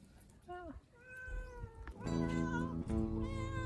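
A cat meows several times in a row at a winter campsite, close and fairly loud, with rising and falling drawn-out cries and a harsh, wailing edge.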